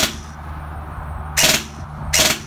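A gun fires in a rate of fire test, with two short, sharp bursts of rapid shots over a low mechanical hum.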